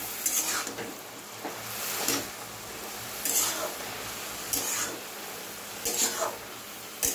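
A ridge gourd and chickpea curry with turmeric powder is stirred in a sizzling pan, the spoon scraping in regular strokes about once a second over a steady frying hiss.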